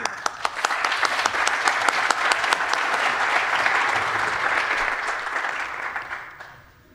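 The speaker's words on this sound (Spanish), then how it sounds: "Ah, y un aplauso a Jordi." An audience at a technical IPv6 tutorial gives a presenter a steady, fairly quiet round of applause, dense overlapping claps that fade out in the last second.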